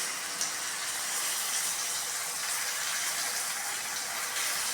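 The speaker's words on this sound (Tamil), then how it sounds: "கொஞ்சமாக தண்ணி ஊற்றிக்கலாம்." Steady rushing of water being poured, a continuous hiss-like splash with no breaks, close and moderately loud.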